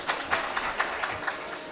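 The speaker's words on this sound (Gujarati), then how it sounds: "તાળીઓ વગાડીએ તેના માટે" Audience applause at a 2018 school talent show stage performance, a brief, steady patter of clapping from a crowd with soft rhythmic peaks and no voices over it.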